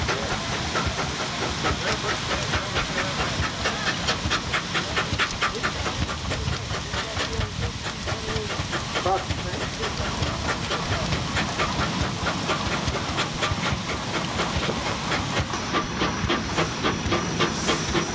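A steam engine runs under prony brake load with a loud, continuous hiss of steam and a fast, even chuffing beat throughout, with some background voices.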